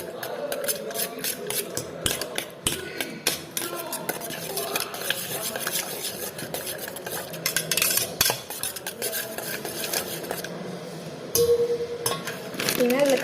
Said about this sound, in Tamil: இந்த முட்டை ஓடலாம் உடைக்க ரொம்ப டஃப்பாக இருக்குது